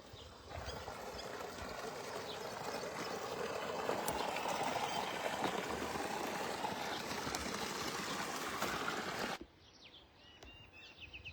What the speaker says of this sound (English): The pump just reactivated here, taking water out of the site.